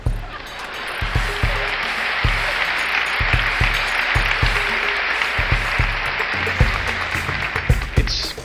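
Audience applause during a lecture, a broad wash of clapping from a crowd, with low thumps, persisting at a steady level and thinning toward the end.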